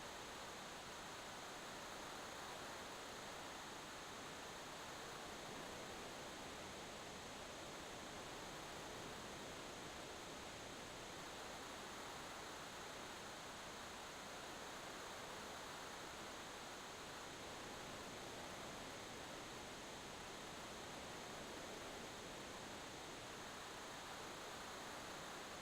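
Waterfall in the video game Final Fantasy VI, a steady, even rush of falling water that holds without change throughout, soft and constant, with no other sounds over it.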